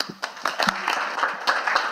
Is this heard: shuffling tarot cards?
no